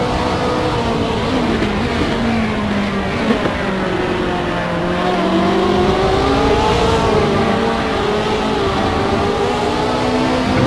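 Sim racing cars in a video game, a Trigon Racing Ferrari dueling a BMW at Imola during an endurance race opening lap, their engines droning and shifting pitch continuously, loud and steady with no voices.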